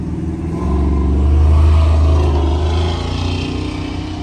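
A Dodge Charger Scat Pack's engine revs while drifting, a loud, deep, rumbling roar that swells to a peak and then eases off slightly, steady throughout with no talk.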